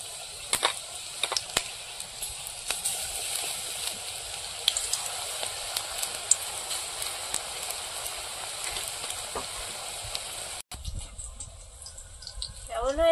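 Chili fritters coated in gram-flour batter sizzle in hot oil, giving a steady, close frying hiss with scattered crackles and pops. Near the end the sound cuts off briefly and some handling noise follows.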